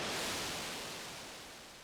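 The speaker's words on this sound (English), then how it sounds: "It's just a white noise riser that I've recorded on my Moog." A white noise riser recorded on a Moog synthesizer plays alone, a dense, even hiss that starts at full strength and fades steadily over under two seconds.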